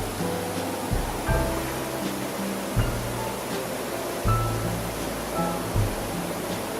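Quang Si waterfall roars as a loud, continuous broadband rush of falling water, steady throughout with low rumbling underneath and no talk.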